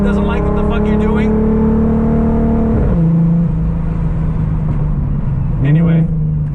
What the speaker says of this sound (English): I absolutely love the way the Borla sounds.